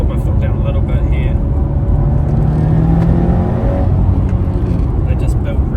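A Subaru WRX STi with an EJ207 engine drones loudly from inside the cabin as it pulls under acceleration in third gear, engine note rising slightly over steady road roar while someone talks throughout.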